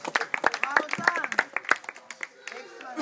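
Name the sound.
round of applause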